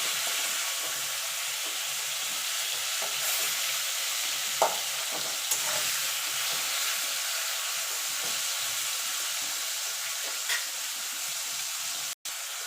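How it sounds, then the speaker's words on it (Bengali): Potatoes frying in a pan over the flame, a steady, close hiss of sizzling oil with occasional faint clicks and spits, holding evenly for the whole stretch. "এখানে আগুন আলুটা ভাজা ভাজা হয়ে গেছে"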